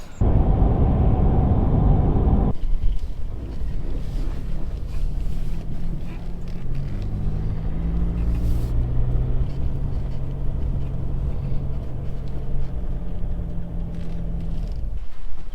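An ex-army truck converted into a fire truck drives slowly with drums loaded, giving a steady engine rumble with wind buffeting the microphone throughout and no voices.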